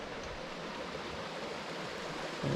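Silliman Creek, running low with late-season flow, gives off a faint, steady rushing hiss, even and continuous throughout with no voices.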